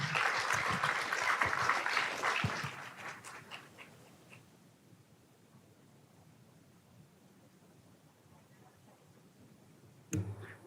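Audience applause at a Capitol Hill luncheon on ultra-processed foods, a dense burst of clapping for the first few seconds that fades into quiet room tone, with a brief sharp noise near the end.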